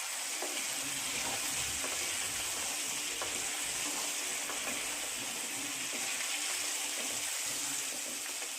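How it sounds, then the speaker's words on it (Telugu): Mustard seeds and fenugreek fry in hot oil for a Kadiri-style tomato pickle, a dense, steady sizzle with faint scattered pops and light stirring scrapes throughout. "వాటిని నూనెలోకి వేయాలి"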